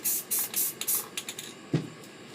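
An aerosol spray paint can hisses in several short bursts, loud and close, tapering off into quieter puffs followed by a dull knock of the can being handled.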